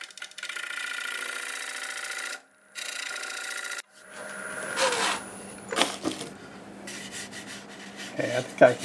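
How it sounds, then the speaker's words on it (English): A negative rake scraper, homemade from a Buck Brothers framing chisel, scrapes a wooden workpiece spinning on a lathe, giving a steady raspy rubbing in two long passes, then lighter scraping under the hum of the lathe motor. "If I can get the negative rake scraper in there, clean this up"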